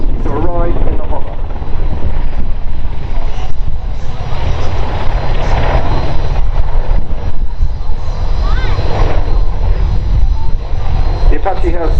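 An Apache helicopter performs a quick stop into a hover at the Farnborough Airshow, its loud rotor and engine roar filling the air continuously, with a commentator talking over it.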